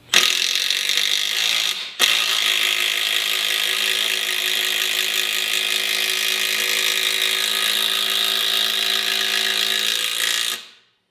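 Makita 18V brushless impact driver driving an 8-inch timber lock screw: a loud, steady hammering whir close by that stops briefly once, then runs continuously for about eight seconds before cutting off.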